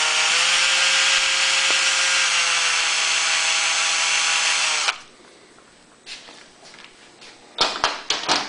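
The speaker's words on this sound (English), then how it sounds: "Notice when I drilled that hole, it looked like a piece of the plastic." A drill bores a small 1/16-inch hole through plastic while building a remote electric start for a Honda EU2000iS generator, producing a loud, steady high whine for about five seconds before stopping, followed by faint clicks and handling noises.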